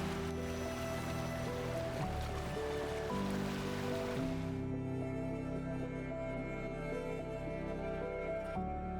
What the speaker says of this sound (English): the crashing waves of the Pacific